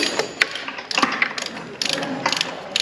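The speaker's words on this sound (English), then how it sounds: "So that's undoing the two bolts that hold the end of the subframe." Ratchet wrench undoing bolts on the subframe of a Thornycroft Antar Mk3 truck under restoration: rapid bursts of pawl clicking in several short runs, close and fairly loud.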